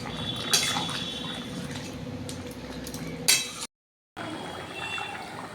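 A spoon stirring ridge gourd, potato and fried shrimp curry in a pan, with close metallic scraping and clinking and soft wet sizzling, a couple of sharper knocks, and a brief silent gap.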